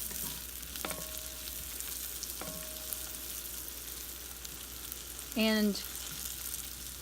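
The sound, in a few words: herbs sautéing in butter or oil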